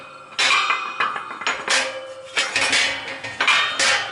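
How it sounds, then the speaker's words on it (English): A dimple die pair compressed in a shop press on sheet metal for an overland trailer build, with loud metallic clanks and clinks in quick irregular succession as the tool is pressed and pulled off. "So you compress these 2 dies together."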